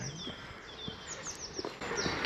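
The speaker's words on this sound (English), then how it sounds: "You can hear the birds singing." Faint birdsong chirps and whistles at a quiet campsite beside a little brook, with soft rustling and distant movement.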